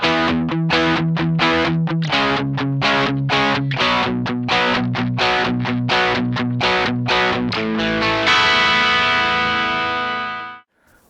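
Electric guitar played through a Tonebone JDX Direct-Drive into a Duet amp on the combo setting with the bright switch off: a steady run of distorted picked notes, then a final chord that rings out before cutting off.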